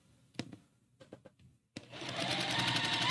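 A sewing machine chain stitches quilt fabric squares: a few short, separate clicks and thumps first, then the motor starts and runs loud and steady to the end.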